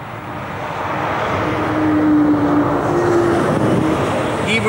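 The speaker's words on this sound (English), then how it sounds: "there's still traffic going around here." Cars and lorries drive along a road across Darracott Moor, a Bronze Age burial site, making a loud, continuous roar that swells as the vehicles pass close by.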